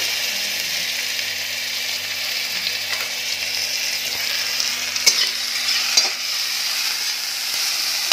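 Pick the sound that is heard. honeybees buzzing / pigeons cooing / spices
spices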